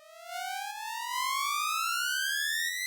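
A sawtooth synth riser built in Ableton Wavetable with two unison voices in mono, a bright buzzy tone sweeping steadily upward in pitch for about three seconds before cutting off abruptly.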